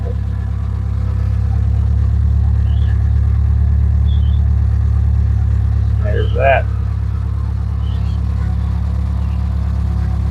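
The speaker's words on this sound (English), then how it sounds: "Well, the truck runs." A pickup truck engine idles steadily nearby with a deep, even rumble throughout, while people talk briefly over it.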